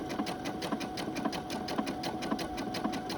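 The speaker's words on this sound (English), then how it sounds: "I'm just going to go right along the edge, and the zigzag will stop your seam from fraying so much in the wash" A sewing machine zigzag-stitches along a fabric seam edge in a fast, even mechanical patter, close and steady, with no talk.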